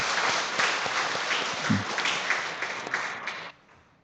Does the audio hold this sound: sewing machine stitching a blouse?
no